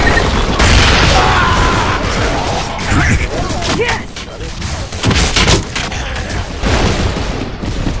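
Dense gunfire and explosive booms from Gears of War 3 multiplayer crackle in rapid bursts, loud and constant, with players talking over the shooting.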